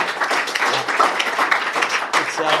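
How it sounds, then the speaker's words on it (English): Live podcast audience at the British Interplanetary Society applauding, a steady wash of clapping lasting a few seconds at moderate loudness, with some speech-like sounds mixed in. "Let's have a round of applause for it."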